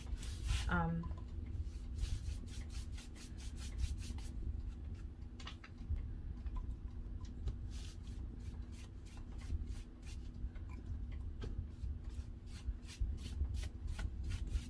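A dry brush scrubs paint in quick repeated back-and-forth strokes across a wooden Easter sign, a rhythmic close scratching that runs throughout, with brief speech near the start.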